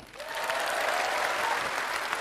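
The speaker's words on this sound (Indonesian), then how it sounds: "Tepuk tangannya kurang semangat." A crowd at a political rally breaks into applause that swells quickly and holds as a dense, steady roar of clapping, with faint voices mixed in.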